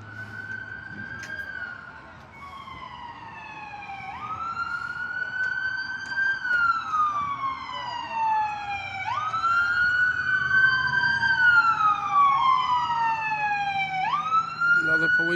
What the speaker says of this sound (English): One police car's here. I hear other sirens coming.